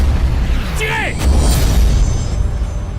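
Heavy booming fire, like cannons or guns, rumbles loud and low after a shouted command, with a voice heard briefly over the blasts.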